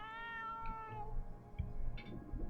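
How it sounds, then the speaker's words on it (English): A cat meows once in a long, drawn-out call at close range, with a faint room hum and electric fan noise beneath it. "Cat."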